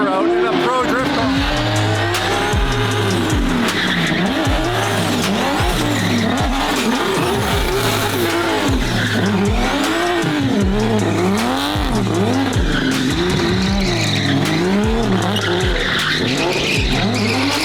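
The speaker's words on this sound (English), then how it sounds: "Now there's only one way to bring a pro driver out in a pro drift car." A pro drift car slides with repeated squealing tires and a revving engine, loud and close, its wavering screech rising and falling in rhythmic arcs through the whole stretch.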